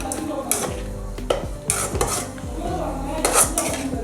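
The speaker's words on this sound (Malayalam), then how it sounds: "ഈ സമയത്ത് നന്നായി ഒന്ന് ഇളക്കി കൊടുക്കാം." Ladle stirring chicken stew with curry leaves in a metal pot, repeated scraping and clinking strokes close up, with a faint sizzle underneath.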